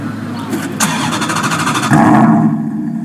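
A Maserati V8 engine roars loudly and revs up, the pitch rising sharply before settling into a throaty idle.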